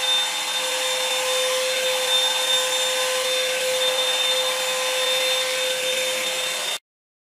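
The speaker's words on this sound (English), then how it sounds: "This brush that is actually a hairdryer that gives me the most volume." A hot air brush hairdryer blows with a steady airy roar and a thin high whine, running evenly for several seconds before cutting off abruptly.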